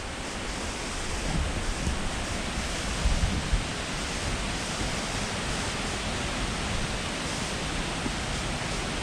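A waterfall on Vancouver Island roars in a steady, dense rush of falling water close by, filling the whole clip without a break and with no voices.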